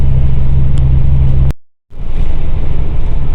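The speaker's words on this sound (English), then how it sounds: "so I'm towing this running a low RPM" A Ford V10 Econoline van engine runs at low RPM while towing, giving a loud, steady low rumble with road noise; it cuts out briefly midway, then resumes.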